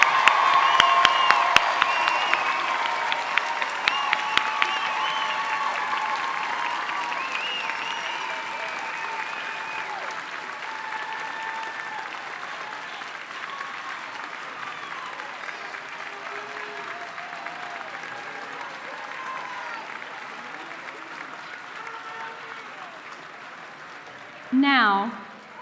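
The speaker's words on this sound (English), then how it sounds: "how about another big round of applause for our 2023 class?" A graduation audience at a college commencement applauds the class of 2023, sustained clapping from a large crowd that swells loud at first and then slowly fades over about twenty-five seconds.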